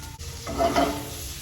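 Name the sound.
lemon segments sizzling in a pan with seabass juices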